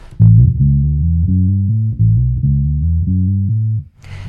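Bass guitar playing a riff with its tone controls and mids turned down: a loud, dark, repeating run of low notes in a steady galloping rhythm, played alone without talking.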